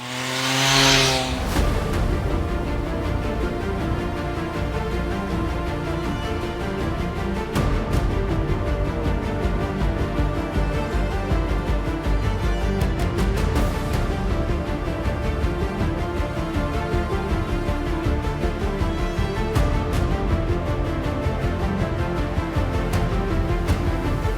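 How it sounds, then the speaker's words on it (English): An MV Agusta Enduro Veloce adventure motorcycle on the road, its engine droning loud and continuous with steady revs under rushing wind, no speech over it. "I'm riding an exotic Italian bike"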